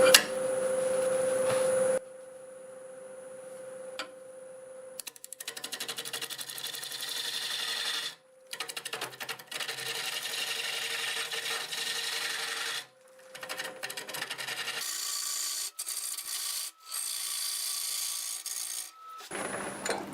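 A wood lathe turns hard olive wood under a freshly sharpened 5/8 bowl gouge, making a continuous scraping rasp in long passes broken by brief pauses, with a steady motor whine underneath.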